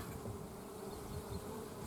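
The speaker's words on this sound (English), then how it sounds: "As you can see, there's field bees in there." Honey bees, field bees in a hive being split with a queen due to hatch, give off a faint, steady, continuous buzz.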